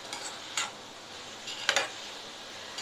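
Spinach (keerai) sautéing in a pan for a South Indian keerai poriyal: a steady soft sizzle with a few sharp stirring scrapes, close and alone.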